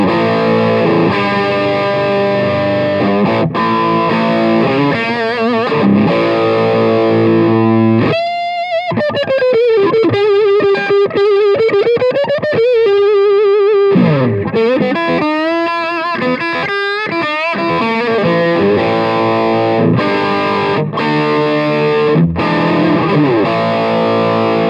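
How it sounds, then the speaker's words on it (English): An electric guitar plays through a Marshall Jackhammer pedal on its distortion setting, heavy distortion with sustained chords and wailing bent notes ringing out loud and saturated with no talking. "So if I just put it to distortion"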